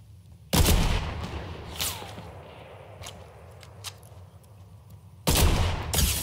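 Gunfire in the video game Fortnite: a loud burst of shots opens, then a quieter stretch with scattered faint pops, and a second heavy burst near the end, all without talk.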